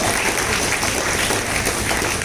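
A dense, steady burst of applause from a large crowd at the opening ceremony of a karate championship, loud and continuous throughout.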